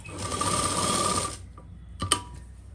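A sewing machine stitches the lining of a Burberry suit with a fast, steady whir for just over a second, then stops, followed by a couple of sharp mechanical clicks and a thud up close.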